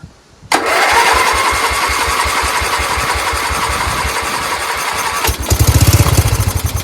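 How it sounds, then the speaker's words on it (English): A Dayton lawn tractor's small Briggs engine cranks, catches and settles into a loud, steady chugging idle, then briefly revs up near the end. "Oh, it turned over. We have a good engine."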